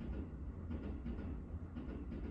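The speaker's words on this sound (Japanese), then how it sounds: "すごい電車が近くにあるのね。 まあ、駅近でめっちゃ嬉しいんだけど、うるさいの。" A train passes near a house by a station, making a low, continuous rumble with a faint rhythmic clatter. It is heard from indoors, muffled and quiet.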